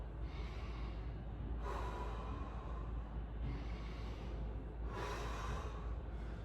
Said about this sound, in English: I want to take a deep breath in And as I go into my exercise, and then as I exhale, I go back into neutral